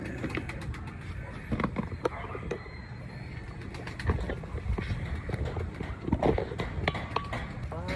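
Pigeons coo softly amid scattered wing flutters and light shuffling, with occasional voices nearby; a busy, close coop atmosphere.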